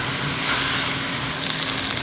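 Finely ground onion sizzling in a pan for potato curry, a steady, loud, broadband frying hiss that holds evenly throughout with no voices.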